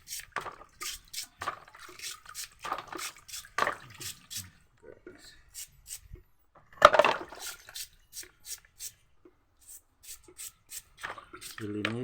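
Seashells being washed by hand in water to remove dirt, with soft splashes and clinking shells in irregular bursts, close by, while a person talks throughout.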